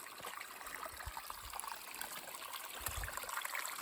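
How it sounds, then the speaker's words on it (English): Mountain stream trickling through forest on the Freezeout Trail in Hells Canyon, a steady, soft wash of running water close by with no voices. "descend into the forest. Near a stream."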